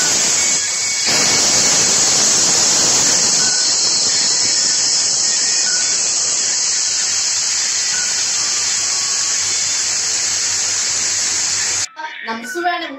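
Cashew nuts frying in ghee in a hot pan, a steady loud broadband sizzle that holds for about twelve seconds before cutting off into brief clinks and stirring.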